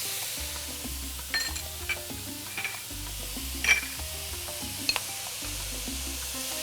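About four cloves of garlic sizzle in a frying pan for arroz con gandules, a steady close hiss broken by the scrape and clink of a utensil stirring, with a low rhythmic background hum.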